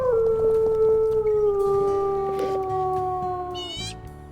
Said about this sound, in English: A howl. Okay, let's give them all a howl.